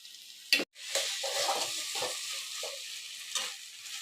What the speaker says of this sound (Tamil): இப்போ நம்ம மசிச்ச கருணைக்கிழங்கு அதில் போட்டுடலாம்